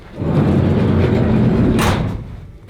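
An empty van's door slides and closes with a loud rumbling roll that ends in a sharp shut, followed by quiet.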